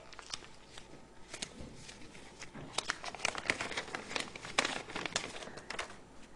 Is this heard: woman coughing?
no